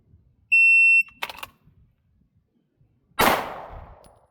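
A shot timer beeps once, and about two seconds later a single loud pistol shot follows, drawn from a holster and fired at close range. The sharp report decays into a short echo in otherwise quiet surroundings.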